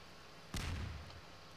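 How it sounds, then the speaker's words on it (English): A single grenade blast in Half-Life 2 Episode, a sudden loud boom with a rumbling low tail that fades within half a second, heard alone. "Gordon, lob a couple grenades."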